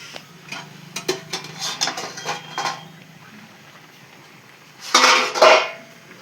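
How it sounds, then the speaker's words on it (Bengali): A metal lid is set onto a cooking pot holding chopped banana flower, first with a few light taps and rattles, then a louder clattering settle near the end. "উপর দিয়ে ঢাকনা দিয়ে দেব।"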